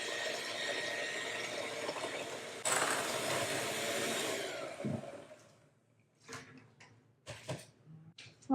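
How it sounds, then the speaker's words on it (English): An electric mixer blends oil and sugar for a vegan tres leches cake batter, a faint steady whirring for about five seconds that stops, followed by scattered clinks and handling noises. "we're going to grab our oil and our sugar. And just give those a mix."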